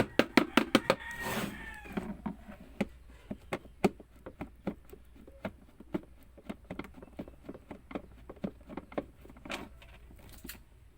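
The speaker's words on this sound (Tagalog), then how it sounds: "Dami pa ng mga alagang manok doon." Chickens clucking and crowing in a yard, with many short sharp sounds in a loose rhythm and a louder burst near the start.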